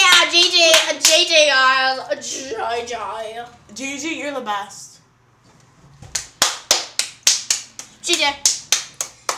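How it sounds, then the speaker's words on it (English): A small group of people clap hands during a Minecraft gaming session, first a few claps mixed with excited voices and chanting, then after a brief pause a bright rhythmic run of close, sharp claps. "Let's just clap. Let's clap."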